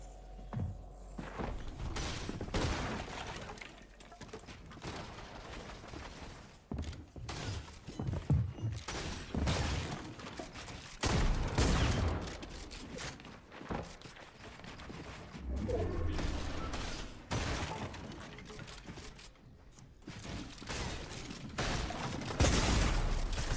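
Repeated loud shotgun blasts from a single-shot weapon in a video game, sharp bursts scattered irregularly across the clip amid other game action thumps and clatter, with no speech.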